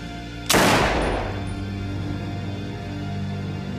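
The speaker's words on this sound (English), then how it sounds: "She shot him once" A single sharp, loud handgun shot cracks out close by, followed by a long, fading reverberant tail.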